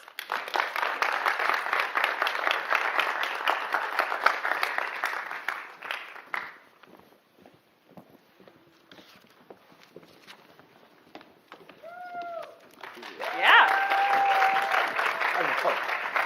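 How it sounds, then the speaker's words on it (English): A crowd at a panel event applauds in a dense, steady wash for several seconds, goes quiet while someone speaks, then breaks into applause again near the end. "now I'm going to welcome our first wave of panelists. So give them a round of applause"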